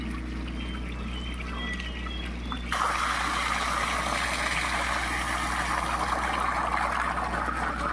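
Water circulates and trickles in a duckweed pond, a soft steady flow that swells abruptly into a louder, fuller rush partway through, over a constant low pump hum.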